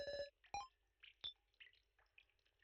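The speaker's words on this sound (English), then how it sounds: "I don't like the little dripping noises." Small, faint water drips sound in the Your Turn To Die video game: sparse, glassy, tonal plinks fall at irregular intervals against near silence.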